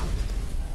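A continuous roaring explosion in the VR game Fallout 4, loud and broadband with a heavy low rumble that stays steady through the whole short moment.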